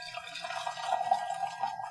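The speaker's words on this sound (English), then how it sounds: "I'm going to have to pour here, so I'm going to get ready to get my pitcher ready." Brewed Fengqing Dragon Pearl tea pours steadily into a pitcher, a close, continuous trickling stream with faint splashing and no voices.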